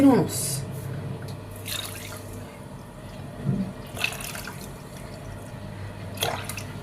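Water poured from a cup onto sugar in a pot for syrup, with faint splashing and dripping bursts under someone speaking in a quiet kitchen.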